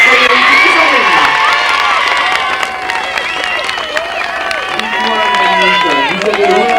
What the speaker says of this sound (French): Et alors je vous demande de les applaudir justement les candidats de ce vendredi pour le playback chiche.